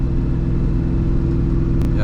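Ford Mustang SVT Cobra Terminator with tighter, lowered suspension and subframe connectors: a steady, loud, deep engine drone holds throughout the short stretch, with a brief click near the end.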